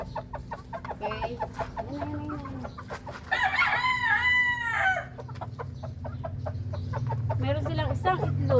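White Escolin Muff chickens at feeding time, with clucking and a clear rooster crow standing out over steady background noise while a person talks.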